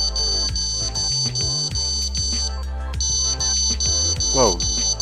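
The AON2 device sounds its alarm tone, a loud, sustained electronic pattern with stacked high tones. It pulses rhythmically over a low hum, and a brief rising chirp comes near the end.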